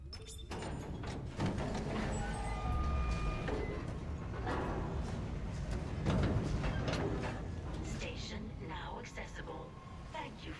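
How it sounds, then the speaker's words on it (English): A tram ride in the game Dead Space rumbles and rattles steadily, with metallic clanks and mechanical hums beneath a person talking throughout. "So we're on the tram now."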